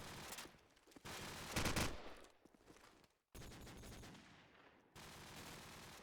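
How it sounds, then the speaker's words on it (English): Desert Eagle pistol fire in Call of Duty 4 during a LAN tournament match: quiet bursts of gunshots come in separate clusters, broken by short gaps, with a sharp cut near the middle. "as Paco finds another deagle kill"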